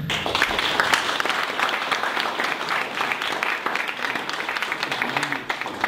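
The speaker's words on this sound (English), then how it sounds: "Let's give one more round of applause to Derek." A crowd applauds steadily for several seconds, a dense wash of clapping that fades slightly near the end.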